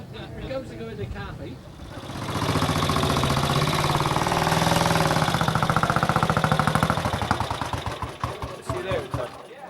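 An early-1930s Velocette KTS touring overhead-camshaft motorcycle engine starts up and runs loud and close, its rapid mechanical beat rising then holding steady, with voices talking underneath.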